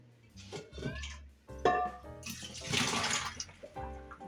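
Collard greens being rinsed under a running tap, water splashing and rushing in broken bursts that swell louder in the middle, with clattering handling sounds of leaves and a pot close by.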